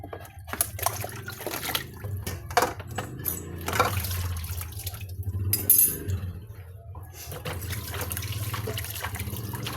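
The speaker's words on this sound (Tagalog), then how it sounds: "Perting hinaya sa agas." A weak flow of running water trickles steadily, with occasional light clinks and splashes, fairly close and unbroken throughout.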